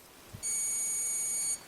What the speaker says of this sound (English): we should get a beep